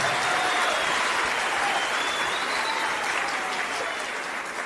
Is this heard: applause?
yes